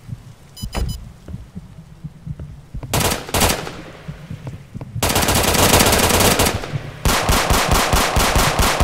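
Bursts of rapid automatic gunfire in a Roblox game, a short burst early, then longer loud sustained volleys, with sparse single shots and thuds between them and no talking.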